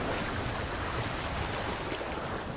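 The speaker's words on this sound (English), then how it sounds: "The crash of water as the buffalo retreat takes on a new significance to her." Water crashes and splashes in a broad, continuous roar as buffalo retreat through it in the wild, loud and unbroken for the whole stretch with no voices.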